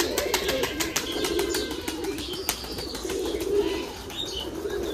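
Pigeons on a rural pigeon farm keep up a dense, continuous cooing, with frequent sharp wing flaps and claps scattered throughout, close and fairly loud.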